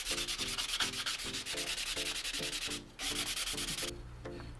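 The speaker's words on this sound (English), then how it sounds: "I took the 220 grit sandpaper, made it smooth, got rid of the edges" Wood edges being sanded by hand with 220 grit sandpaper, a steady rhythmic back-and-forth rasp of close strokes, about two per second, with a brief pause near the end.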